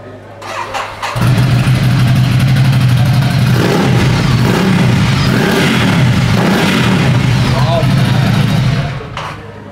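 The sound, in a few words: Ducati Monster twin-cylinder motorcycle engine with aftermarket exhaust revving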